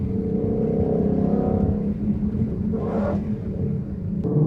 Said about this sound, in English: Listen to the downshifts. Kind of get some of that supercharger whine from the JLT.